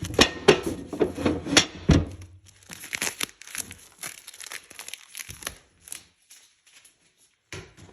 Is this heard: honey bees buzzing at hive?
no